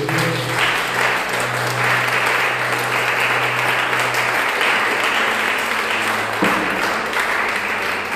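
Church congregation in Dakar applauding during a sermon, a loud, sustained wash of clapping with a low hum underneath and some voices mixed in.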